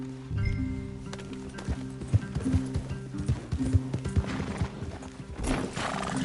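Horses in the Red Dead Redemption 2 video game, with hooves clip-clopping at a walk, snorts and a whinny, close and moderately loud over a steady background hum, without talk.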